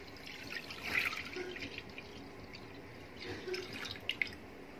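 One litre of fresh sugarcane juice pours into a kadhai wok as a faint, brief liquid splash and trickle, rising twice softly against a quiet room hiss.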